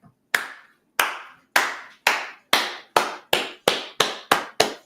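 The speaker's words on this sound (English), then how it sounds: "that deserves a freaking golf clap" Slow, deliberate hand claps ring out one at a time, about eleven in total, each crisp and close. The spacing tightens slightly toward the end, with no voices between them.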